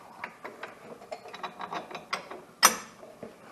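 A ratchet wrench cranks a bolt tight during a Camso X4S track installation on a 2014 Yamaha Viking, giving a rapid run of close, crisp clicking strokes followed by one sharper metallic clack.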